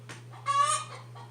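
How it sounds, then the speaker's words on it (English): A chicken clucks nearby in a home craft setting, giving one short, clear burst of calls over a steady low hum, with no talking. "Chicken!"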